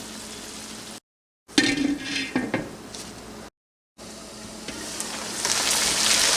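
A spoon stirs fish curry masala with tomatoes in a pan, scraping and sizzling in short bursts, with brief gaps of silence between the bursts.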